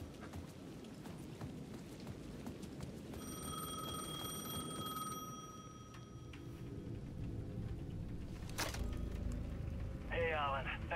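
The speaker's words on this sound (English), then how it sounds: "The payphone at the edge of the plaza was ringing again." A payphone rings repeatedly on a plaza in the video game Alan Wake 2, its tones steady and moderately loud over a dense background of ambient game sound.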